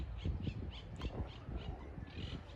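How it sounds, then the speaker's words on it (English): Unidentified birds at the Ancient Agora in Greece give repeated squawking calls at an uneven rhythm over a rough outdoor background. "Wow, what are those birds?"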